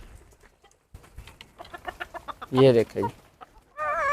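Free-roaming desi hens on a home farm cluck and squawk in short bursts, growing loud and close near the end, while someone talks over them.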